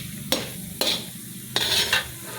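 Frying and stirring in a large kadai while making curry leaves powder: a soft steady sizzle beneath four sharp scraping strokes of a spoon against the metal, spaced unevenly, close and clear, with no voices.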